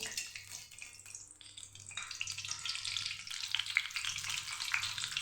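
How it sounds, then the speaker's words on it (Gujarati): Green chili peppers sizzle and crackle in hot oil, the frying hiss swelling louder toward the end with a few sharp pops. "આપણા મરચાં તળી લેશું"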